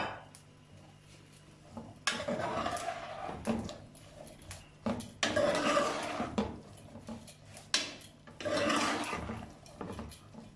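Okra (bhindi) tipped into hot oil in a pan, with bursts of clattering, rattling frying noise around two, five and nine seconds over a steady low hum, close and fairly loud.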